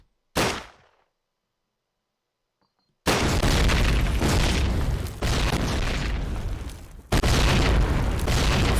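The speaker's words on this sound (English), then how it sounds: "A few late nades. Landing just by the allied players" Grenades explode in a Call of Duty match: one sharp blast, near-silence, then a long run of loud, booming detonations and gunfire, with a fresh heavy burst near the end.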